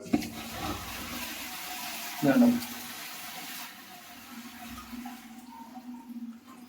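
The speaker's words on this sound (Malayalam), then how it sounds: "ക്ലോസറ്റിന്റെ ഫ്ലഷ് ടാങ്ക് ഇവിടെ ഫ്ലഷ് ചെയ്യുമ്പോഴേ" A toilet flush tank with a leak at the back flushes indoors, a brief gushing surge of water followed by trickling and refilling, while someone talks over it.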